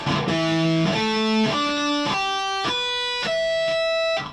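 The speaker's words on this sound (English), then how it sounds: "Natural harmonics are ones that most people know how to do." Guitar natural harmonics ring out one after another, about seven bell-like tones with a gritty, distorted edge, each sustaining into the next, with no talking.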